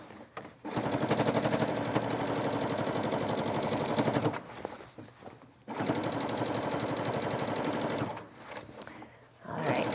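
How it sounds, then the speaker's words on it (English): Sewing machine stitching stretch fabric around a jacket, a rapid close mechanical chatter running in two long bursts of about four and two and a half seconds with brief pauses between, no talking. "stitch all the way around."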